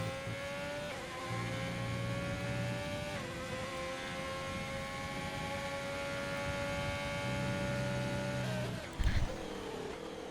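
An F1 racing car heads out on track, its engine a steady droning whine holding a sustained tone with small pitch shifts, ending with a brief thump; no voices.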